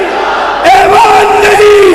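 A rally crowd roars in unison, a loud surge of many voices shouting slogans back at a speaker at a political conference in Mirpur Khas, rising sharply after a brief quieter start.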